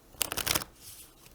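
A deck of playing cards is shuffled close by during a board game setup, a quick burst of crisp riffling flutters lasting about half a second before fading to quiet.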